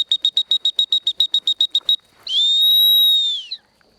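A high, shrill dog training whistle gives about fourteen quick, evenly spaced pips, then one long sustained blast that fades out, loud and close with no talking.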